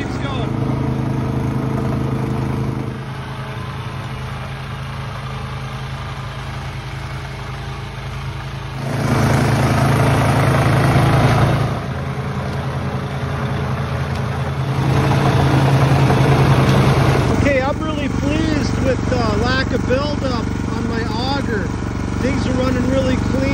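A snow blower engine runs steadily while clearing wet snow, giving a continuous mid-pitched drone that swells and eases in load, with a person talking over it.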